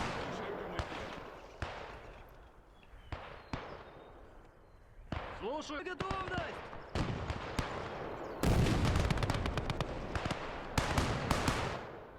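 Repeated sharp shots from a Soviet 45mm anti-tank gun in a WWII Eastern Front battle game, firing amid dense surrounding gunfire and explosions, loud and irregular with bursts overlapping throughout.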